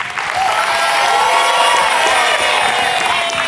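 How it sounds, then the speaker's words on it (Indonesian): A studio audience at the New Family 100 game show applauds and cheers for the contestants, with a loud, steady wash of clapping and shouts filling the whole stretch. "tepuk tangan untuk mereka semuanya"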